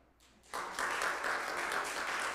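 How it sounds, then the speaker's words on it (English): A church congregation breaks into clapping after a short silence, starting abruptly and building into steady, moderate applause. "Clap for book A."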